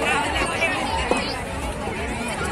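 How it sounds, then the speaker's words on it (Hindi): Crowd at a Ganga bathing ghat, a dense wash of many voices murmuring and chattering at once, loud and continuous, with footsteps and movement mixed in. "ये देखो गाइस कितनी भीड़ है"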